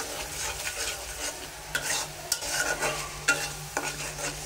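Onion, ginger, garlic, green chillies and spices fry in mustard oil for a greens, okra and shrimp dish, giving a soft, steady sizzle. Repeated scraping stir strokes and light utensil knocks land at irregular intervals, fairly quiet and close.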